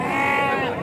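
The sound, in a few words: male goat bleating at livestock market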